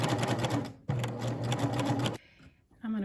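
Home sewing machine stitching straight rows on a maxi dress: a loud, steady motor whir with rapid needle chatter runs in two bursts, separated by a brief pause, then stops and gives way to quieter handling.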